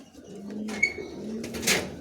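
Giribaz pigeons coo in low drawn-out calls nearby, with a few sharp rustles and flutters breaking in toward the end.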